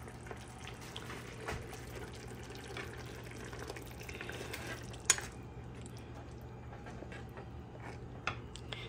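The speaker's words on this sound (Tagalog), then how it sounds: "Lagyan ko tubig." Water poured into a cooking pot while making Filipino sinaing na tulingan, a faint steady splashing trickle over a low background hum, with a couple of small clinks.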